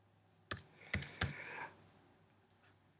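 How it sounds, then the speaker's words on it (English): A few quiet keystrokes tap on a computer keyboard as letters are typed: two or three quick clicks in a short burst, then one lone tap after a pause, in an otherwise still room. "if you type in the last 6 letters"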